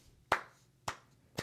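Three sharp, separate hand claps ring out close and dry, spaced a little over half a second apart, each snapping cleanly out of near silence.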